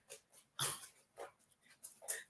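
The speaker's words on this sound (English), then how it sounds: "Does anybody else's dog see their self and bark?" A dog barking at its own reflection, a few short yelps and whimpery barks in quick bursts, close by with quiet gaps between them.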